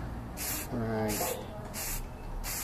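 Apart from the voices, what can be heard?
spray paint can spraying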